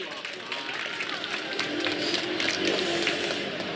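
Clapping swells from a crowd at an outdoor rally of marines and veterans calling for a special counsel, rising over a few seconds beneath a voice speaking over a loudspeaker.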